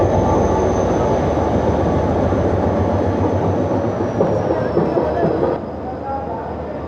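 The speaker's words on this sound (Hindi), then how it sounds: "ट्रेन रवाना हो गई।" A passenger train on a desert line in Sindh, Pakistan, departs and rolls along the rails with a loud, continuous rumble and clatter close by. A faint high whine runs through it, and the rumble eases near the end.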